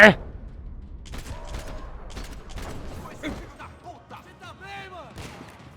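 Gunfire in the Max Payne 3 video game, a loud opening shot followed by scattered impacts and bursts, with voices talking intermittently in between.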